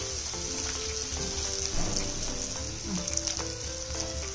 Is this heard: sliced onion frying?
yes